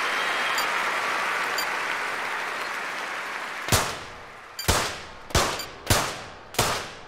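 Five sharp, loud gunshots ring out one after another at a shooting event in the London 2012 Olympics video game, each with a short decaying tail, following a few seconds of steady crowd-like hiss.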